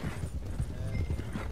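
Horse hooves clatter in the Red Dead Redemption 2 video game, a fast, soft, rhythmic clip-clop running through the whole short moment at low level with no talk.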